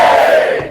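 A short burst of cheering from a small group, loud and close, trailing off within a second.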